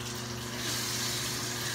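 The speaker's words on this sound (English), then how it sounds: "I'm gonna use like a mixture of like cold and warm hot water to make some warm water" Warm and cold water runs steadily from a bathroom tap, a continuous close rushing hiss with no breaks.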